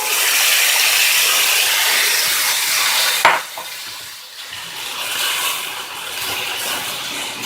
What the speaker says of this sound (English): Now we'll add in our chauli or our black-eyed beans.